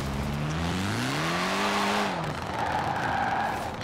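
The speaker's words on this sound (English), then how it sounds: "So you can see it has a rally engine, so it sounds like a higher pitch." A 1974 Toyota Corolla with a drag-tuned rally engine in Forza Horizon 4 revs high and loud, pitch climbing then sweeping down as it lifts off, followed by a steady higher-pitched drone; no talking.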